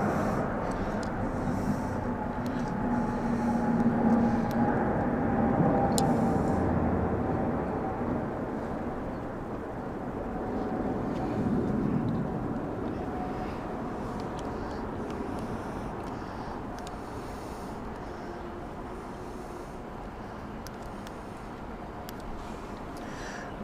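Military aircraft flypast for VE Day 2025 including an Atlas transport plane: a broad, distant, steady engine rumble that swells and slowly fades, with faint crowd noise around.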